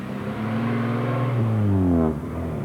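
A classic Morris car driven along, its engine a steady close hum that swells and rises in pitch as it accelerates, then eases off near the end, with no voices.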